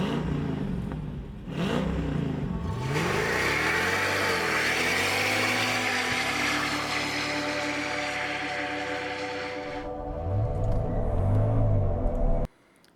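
A 2003 Mercedes E55 AMG engine revs hard from idle, its pitch climbing and holding loud and close for several seconds, then falling back and surging again before cutting off abruptly.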